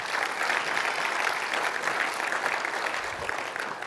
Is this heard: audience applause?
yes